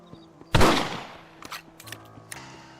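A single loud rifle shot in Red Dead Redemption rings out nearby and decays, followed by fainter clicks and softer distant reports under a low game hum.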